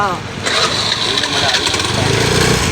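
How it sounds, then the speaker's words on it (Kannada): A vehicle left unused for four months cranks and catches, then settles into a loud rough close-up engine running like a small mower, with people talking over it. "ಇವತ್ತು ಮತ್ತೆ ಆನ್ ಮಾಡ್ತೀವಿ ನೋಡ್ರಿ"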